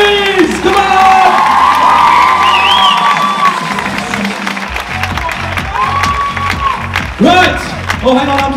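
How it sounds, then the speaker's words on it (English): An audience at a Leicester dance crew competition applauds and cheers for the judges, loud clapping mixed with whoops and shouts over pulsing background music, with a voice talking through part of it. "Let's keep that applause going for our judges"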